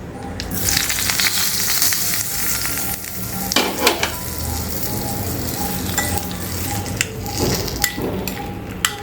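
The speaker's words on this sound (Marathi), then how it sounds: "तर फोडणी घालतेय" Hot tempering of oil with asafoetida and a piece of red chilli sizzles steadily as it is poured over bottle gourd bharit, with a few sharper crackles and pops in the middle and near the end.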